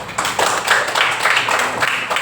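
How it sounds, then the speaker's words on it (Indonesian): Classroom clapping for a student group, a small crowd of children clapping close by in a lively, somewhat rhythmic burst with audible individual claps pulsing through the short stretch. "tepuk tangan untuk kelompok Gilang"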